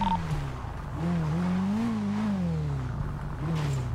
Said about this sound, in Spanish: Mira, que hay unos motores prendidos aquí en candela.